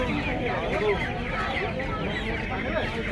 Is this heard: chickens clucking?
yes